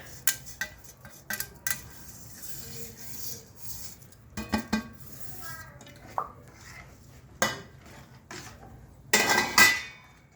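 Chosi is stirred into thickening milk in a metal pot, with intermittent close spoon clinks and scrapes against the pot separated by quiet gaps, and a louder clatter near the end.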